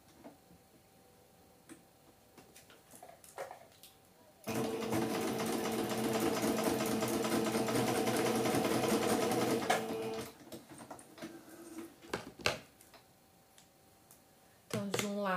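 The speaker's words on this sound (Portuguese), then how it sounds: "vou colocar a etiqueta, fazer uma costurinha pé de máquina." A sewing machine stitches a label onto a patchwork wallet in one steady, close run of rapid mechanical chatter lasting about six seconds, with quiet handling clicks before and after.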